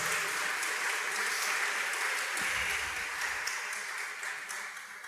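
Church congregation applauds at a sermon, steady dense clapping from a crowd filling the room, moderately loud and continuous throughout.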